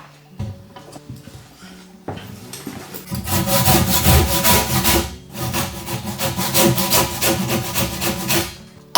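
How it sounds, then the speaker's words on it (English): Hand sawing through a wooden building column to bevel its front face: a few tentative scrapes, then a steady run of rhythmic back-and-forth rasping strokes, loud and close, with a brief pause midway. "So I'm going to bevel the column by cutting off the front face."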